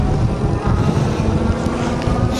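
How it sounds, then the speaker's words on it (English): Strong wind roars steadily across the microphone while riding a Jasion X-Hunter folding full-suspension electric bike into a headwind, a loud continuous buffeting rumble with no speech. "it's so freaking windy, and we're gonna run right into the freaking headwind"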